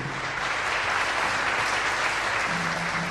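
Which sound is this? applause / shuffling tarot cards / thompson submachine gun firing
applause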